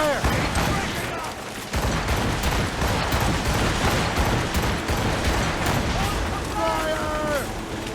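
Cannon volleys boom from warships in the naval game Assassin's Creed Rogue, a dense, continuous roar of repeated blasts and crashes that runs almost unbroken, with a few short voiced shouts rising near the end.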